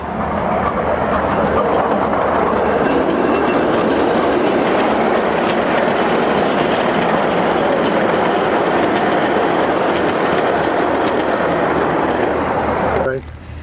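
A train rumbles past close by at Newby Hall & Gardens, a loud continuous roar with rhythmic clatter of wheels on track, cutting off abruptly near the end.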